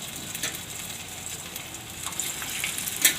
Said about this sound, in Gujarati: તો હવે આપણું આ તેલ ગરમ થઈ ગયું છે તો આપણે આમાં ફ્રાય કરી લેવું આ રીતે આમ